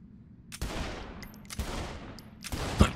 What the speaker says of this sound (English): Can you shoot the dude that I'm holding?